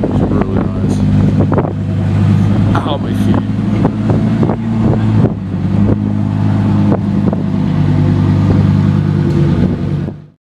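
Lamborghini Huracan rear-wheel-drive Evo Spider passing on a lap, a loud deep engine roar with sharp revving bursts amid heavy wind buffeting, and people talking over it.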